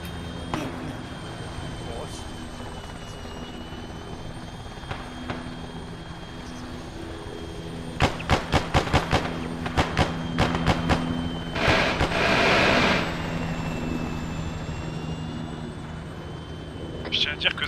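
Aircraft flying in the military video game Arma 3, a steady engine drone running throughout with a cluster of sharp bursts mid-clip, while players talk over it.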